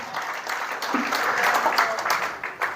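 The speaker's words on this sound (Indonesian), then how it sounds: "Tepuk tangan bagi Yesus." A church congregation breaks into brief, bright applause, the clapping close and steady for a few seconds with faint voices mixed in.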